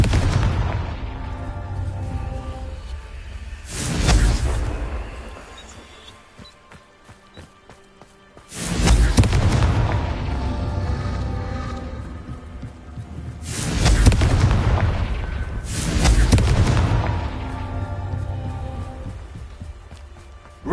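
Confringo spell blasts in Hogwarts Legacy, a game, land as repeated loud booming explosions, four big bursts with rumbling tails.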